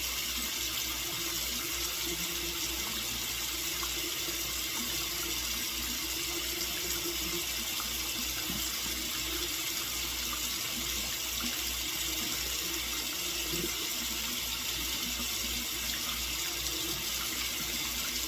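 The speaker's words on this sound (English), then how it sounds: "Rinse my hands off." A bathroom tap runs steadily while hands are rinsed under it, a continuous quiet broadband wash of water with no voices.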